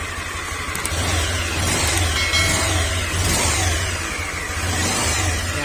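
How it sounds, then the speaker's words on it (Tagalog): A close, loud Honda Click 125 scooter engine runs steadily with a rough, rhythmic knocking pulse in its low rumble, no voices. "rinig nyo yung tunog ng makina"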